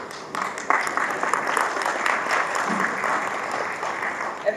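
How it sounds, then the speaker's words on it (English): Sustained applause from an audience at a Bengaluru tech event, a dense steady wash of many hands clapping that holds at an even level throughout. "Everybody, a big round of applause to all our speakers and to our host Sujit."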